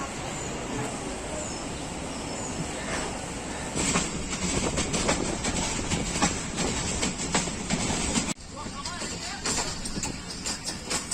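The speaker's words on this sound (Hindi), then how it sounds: "सेकंड विसल पेन डाउन अल्लामा इकबाल एक्सप्रेस चिमेंडा से रवाना" Allama Iqbal Express, a Pakistan Railways passenger train on the Sialkot to Lahore route, rolls out steadily with continuous rumble and rhythmic clickety-clack of wheels over rail joints, heard close from aboard, with faint voices in the background.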